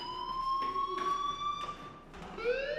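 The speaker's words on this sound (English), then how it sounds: "Hey, do you hear that fire alarm?" A fire alarm rings in the Life is Strange video game, a steady, fairly loud electronic tone with strong harmonics that pulses in repeated bursts and has no voices over it.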